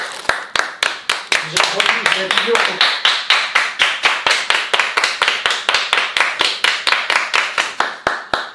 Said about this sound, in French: Allez, on applaudit tous Jérémy.